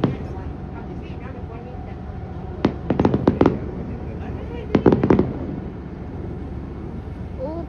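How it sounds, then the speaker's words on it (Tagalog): Distant fireworks or firecrackers go off in two quick crackling clusters of sharp pops over a steady low rumble of outdoor background noise. "Oh, paputok pala siguro yung mga doon ante kanina."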